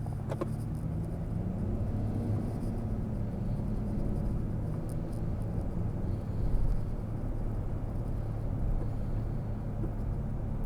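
A steady, loud engine rumble from a Toyota pickup truck driving away drones continuously, with a heavy low-pitched roar and no speech.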